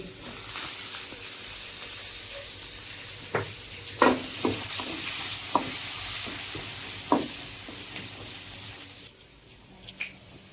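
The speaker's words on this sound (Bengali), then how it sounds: "কাঁচা লঙ্কা দিয়ে দিচ্ছি" Green chilies go into a pan of crab and cabbage, frying with a steady broad sizzle and several sharp clacks of a utensil stirring against the pan, until the sizzle drops off near the end.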